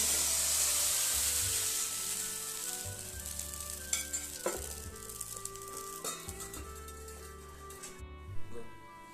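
A spoonful of chitoi pitha batter hits a lightly oiled pan and sizzles, a close hiss that gradually softens, with a few clinks and scrapes of the spoon on the pan.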